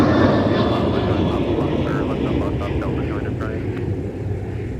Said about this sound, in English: It's aircraft Jenga on taxiway Charlie and Delta.